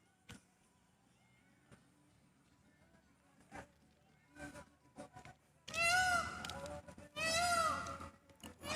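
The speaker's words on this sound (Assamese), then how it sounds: "মৌৰা চৰাই মাতিছে কেও কেওকৈ" A peacock calls from a hilltop hostel campus at dusk, giving two loud, harsh, rising cries in quick succession after a stretch of quiet ambient sounds and scattered faint noises.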